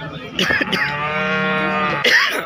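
A cow at a cattle market gives one long, loud, steady moo lasting most of the moment, with brief stirring before it and a short burst of noise at the end.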